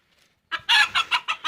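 A chicken clucks in a quick, rhythmic series of five or six sharp bursts, close and fairly loud after a brief quiet start.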